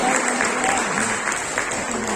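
A crowd of schoolchildren and guests applauds steadily at a school prize distribution ceremony in Purnea, a continuous broadband clatter of many hands with faint voices underneath.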